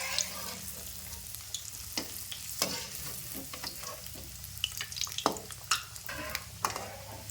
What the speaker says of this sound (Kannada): ನೋಡಿ ಮಸ್ತ್ ಫ್ರೈ ಆಗತ್ತಾವ್ರಿ ಫುಲ್ ಕೆಂಪು ಕಲರ್ ಬರುವಂಗೆ ಫ್ರೈ ಮಾಡ್ಕೋಬೇಕು ರೀ